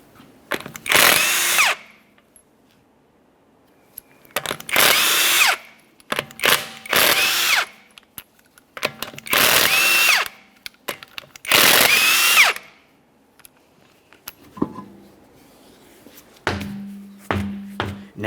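An impact-type power tool removes the 21mm lug nuts from a Toyota Sienna wheel in five loud bursts of several seconds each, separated by quiet gaps with small clicks and clanks.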